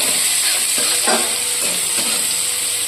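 Tomatoes frying in a pan for a Bengali home-style vegetable dish, giving a steady close sizzle and hiss with a few soft stirring scrapes, no talking.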